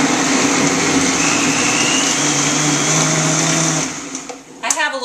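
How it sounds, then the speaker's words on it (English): A Vitamix blender whirs loudly and steadily as it blends a green smoothie, then the motor winds down near the end and a voice is briefly heard. "we're going to blend it up in the Vitamix"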